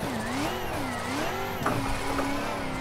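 A BMW E92 engine revs and drops as gears change on a timed track run, the pitch sweeping up and down in steady cycles, loud and close, with no talking.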